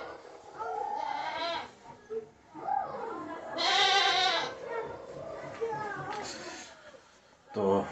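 A goat bleats several times in a village, the calls loud and close, with breaks between them and light background noise.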